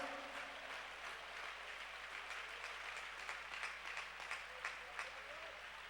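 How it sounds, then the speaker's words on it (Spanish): Congregation applause at a church convention in Cali in 2016, a steady wash of clapping from a large crowd heard at a distance, fairly faint and continuous with a low hum underneath. "A Él sea toda nuestra aplauso."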